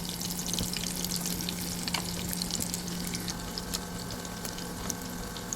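Onions added to oil with fried curry leaves give a steady, close sizzle of frying that runs without break, with faint crackles and small stirring knocks on top.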